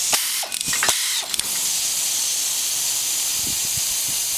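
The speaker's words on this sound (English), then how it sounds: "It works with a air-driven ratchet" An air-driven ratchet working a powered pipe wrench gives a few quick mechanical clicks and bursts, then a loud, steady pneumatic hiss runs on to the end.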